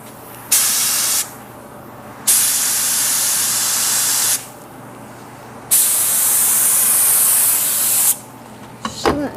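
Activator is sprayed onto hydrographic print film in three long, loud hissing bursts separated by short pauses. A faint fourth burst starts near the end, and no one speaks.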